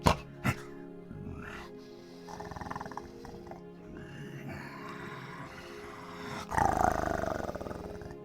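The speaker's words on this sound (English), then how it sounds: "And then you begin to hear the wolves." Wolves snarl and growl in an echoing cavern as a sound effect, a low rumbling texture with a couple of sharp bursts near the start and a louder surge of snarling toward the end.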